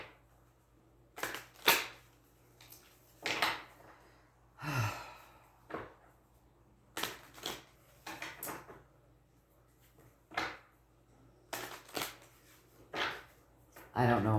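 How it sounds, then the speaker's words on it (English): Tarot cards are shuffled in repeated short riffling bursts, close and fairly faint, with sighs and breaths between them. "3 shuffles."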